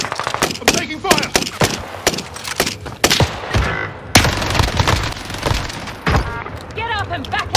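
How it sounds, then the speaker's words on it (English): Sustained gunfire and explosions from Call of Duty: Warzone battle royale gameplay, with dense, loud bursts of shots and booms repeating for several seconds and some fainter clatter between volleys. "I'm taking fire!"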